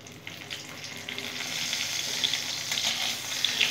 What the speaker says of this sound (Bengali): একটু ভাজা ভাজা করে নেব ভালো করে শুকনো লঙ্কার সাথে এই কালো জিরাটা।